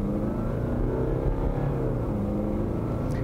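A 2018 Jaguar F-Pace 2.0-litre diesel engine revs steadily with a low, gruff, tractor-like drone, heard from inside the cabin as a continuous rumble with no talk over it.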